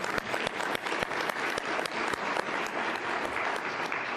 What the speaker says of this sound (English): So everyone, a round of applause.